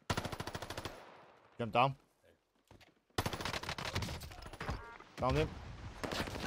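Gunfire in a battle royale video game: rapid bursts of automatic shots crackle loudly, cut by brief pauses and a quieter gap, with a player talking over parts of it.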